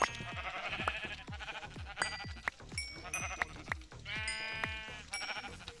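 Sheep in the Minecraft video game, in a UHC Run match on a server, bleat repeatedly and overlap in a busy chorus, with sharp short game sound effects scattered between the calls.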